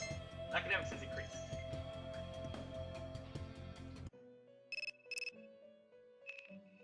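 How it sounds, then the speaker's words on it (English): A cell phone rings in the Persona 3 Portable video game, a short electronic ringtone of repeated tonal beeps that follows a stretch of game music and plays over a quieter background. "Your cell phone is ringing."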